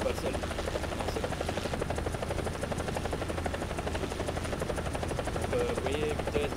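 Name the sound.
helicopter flying in video game War Thunder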